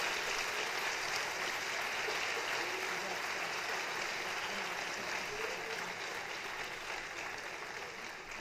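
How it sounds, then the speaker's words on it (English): Sustained applause fills a high school senior award ceremony hall, a dense, even wash of clapping from a large audience that carries on throughout and tapers slightly near the end. "Big round of applause for these people."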